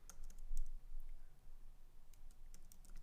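Quiet, close typing of program code on a computer keyboard, a steady run of light clicking keystrokes with brief pauses, no one speaking.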